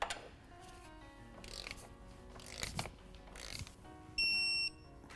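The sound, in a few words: wrench torquing down lower shock mount bolt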